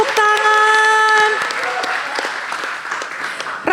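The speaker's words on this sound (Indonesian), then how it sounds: "Tepuk tangan." An audience at a school stage performance claps for a sixth-grade pupil, steady, close applause with a held musical tone at first, tapering slightly toward the end.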